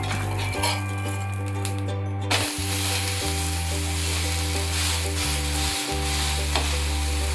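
Uttapam fries in oil on a pan after being flipped, giving a loud, continuous sizzle with a few light metallic clinks from a utensil and a low steady hum underneath.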